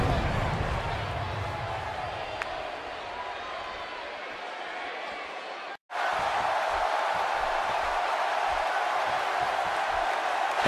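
An arena crowd in the WWE 2K18 video game keeps up a dense, continuous roar of cheering, briefly dropping out for a split second midway before resuming at full strength.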